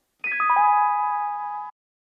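A single time-stretched sample chop pitched up five semitones for a boom bap beat, a bright bell-like cascade of tones that settles into a sustained chord for about a second and a half, then cuts off cleanly.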